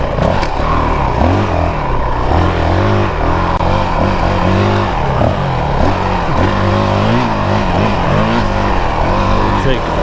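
A 2022 Honda CRF450RL dual-sport dirt bike revs hard along off-road trails, its engine rising and dropping through gear changes, loud and close, with a rider's voice over it.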